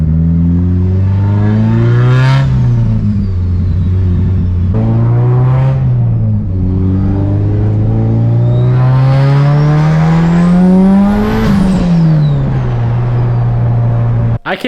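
A straight-piped 700whp Mitsubishi Evo revving hard, a loud, raspy exhaust drone that climbs and falls through repeated throttle blips and a long sweep up before settling back, close and continuous throughout.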